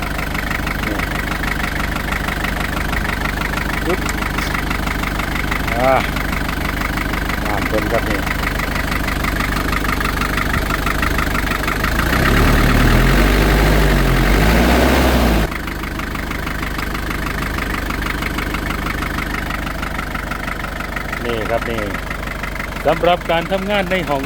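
A used Toyota or Isuzu pickup truck engine idling steadily at close range, a continuous low rumble with a slightly louder, rougher stretch partway through and faint background noises.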